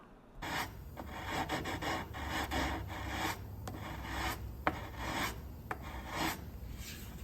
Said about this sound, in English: I just used a small block of wood with sandpaper wrapped around it